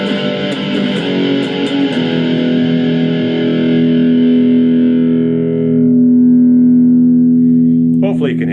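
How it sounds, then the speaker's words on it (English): A heavily distorted electric guitar chord through a Blackstar ID Core V3 amp with high gain rings out loud and sustains for several seconds with a thick overdriven buzz, briefly cut off by a pick scrape at the end. "the more gain I'm adding, the more sort of distortion, overdrive, it gives me more sustain"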